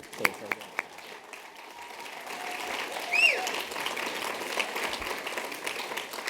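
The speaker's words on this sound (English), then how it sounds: "nobody ever applauds for Roger. So we'll do it again, Roger." Audience applause at a distinguished service award ceremony: steady, moderately loud clapping from a seated crowd that holds for several seconds with a brief swell midway, with faint voices and tonal sounds underneath.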